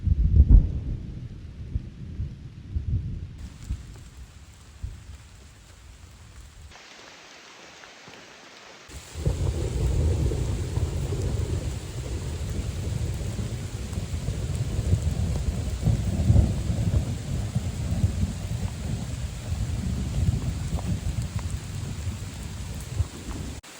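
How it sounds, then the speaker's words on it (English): Low thunder rumbles on and on through steady rain while camping, quieter at first and then swelling into a louder, sustained roll with rain hissing throughout. "Why does some thunder continue to roll on and on and on"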